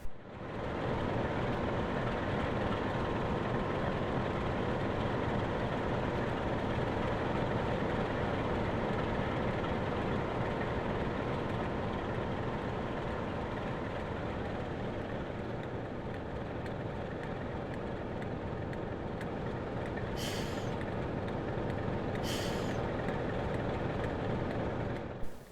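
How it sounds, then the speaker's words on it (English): A DRS Class 47 diesel locomotive runs around its train at Yarmouth Vauxhall on the Wherry Lines, giving a loud, steady engine drone with rumbling wheels throughout. Two brief sharp hisses break through near the end. "The Class 47 cannot work in push-pull mode with the DVT, so the loco will first run around the train."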